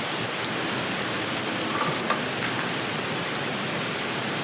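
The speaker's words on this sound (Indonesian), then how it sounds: "deras sekali hujan ini" Heavy rain pours down steadily around an abandoned university building at night, a dense, loud, unbroken roar of falling water with scattered drips and no voices.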